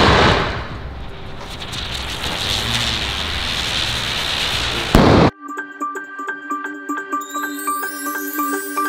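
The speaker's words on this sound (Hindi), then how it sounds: "ये एक बहुत छोटा स्काई शॉट है" A very small sky shot firework called Merry Go Round fizzes with a steady, noisy hiss for about five seconds, then cuts off abruptly and tinkling music follows.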